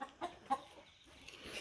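Chickens clucking: a few short, low clucks in quick succession, close and moderately clear, ending in a brighter squawk.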